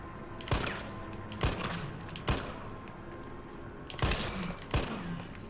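In-game gunfire against zombies in Resident Evil 3 Remake: about six heavy shots fired at an uneven pace, punchy and close, over a steady low rumble of game ambience, with no talking.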